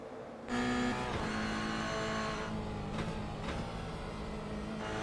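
Race car engine in a GR Cup sim racing game, a loud sustained engine drone with a steady pitch and small shifts in tone, close and continuous.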